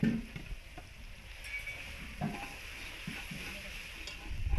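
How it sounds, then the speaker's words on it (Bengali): Ginger garlic paste frying with onions in a pan for mutton curry, a low crackling sizzle broken by occasional stirring scrapes, close and quiet. "এবার আমি আদা রসুনের পেস্টটা পুরোটা দিয়ে দেবো"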